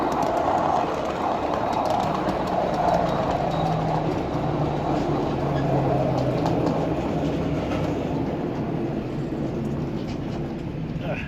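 A ride-on scale railroad freight train backing slowly into a siding off the main line, with a steady rolling rumble and faint wheel clatter close by, and occasional birdsong.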